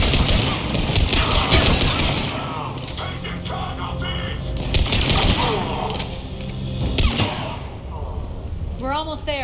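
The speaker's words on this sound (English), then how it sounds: "I hear heavy machine gun fire." Heavy machine gun fire in the video game Mass Effect 3, loud, repeated bursts of rapid shots with booms and mechanical clanks, alongside someone talking over the combat.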